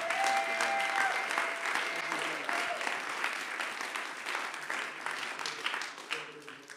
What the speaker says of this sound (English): give him a kingdom clap